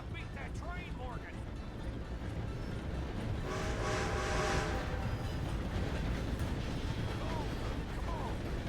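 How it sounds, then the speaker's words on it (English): Steam train rumbling and clattering past in Red Dead Redemption 2, swelling loudly in the middle and fading out, under shouted talk. "Gotta beat that train, Morgan!"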